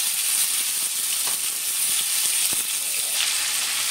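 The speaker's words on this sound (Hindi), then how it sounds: "ले लिया है काली मिर्च और दालचीनी, इसको भी हम तेल में डाल देंगे। थोड़ा सा भून लेंगे इसको अच्छे से।" Cloves, black pepper and cinnamon fry in hot oil for a Navratri chana dal, making a steady, close sizzle with faint crackling pops throughout.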